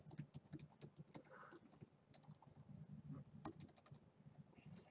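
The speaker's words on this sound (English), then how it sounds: "I can type." Rapid typing on a computer keyboard, quiet and close, with steady clicking keystrokes over several seconds and no voices.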